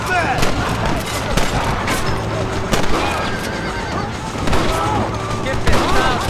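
Gunfire crackles in a Red Dead Redemption shootout, several loud shots over the din of neighing, whinnying horses and clopping hooves, with voices shouting through the scene.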